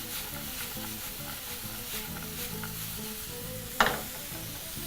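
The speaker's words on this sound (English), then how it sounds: "proceed to toss your ingredients together" Ingredients are tossed in a hot pan for an Indian-style macaroni cheese, with a steady close sizzle, soft stirring rattles and a single sharper clank near the end, without any speech.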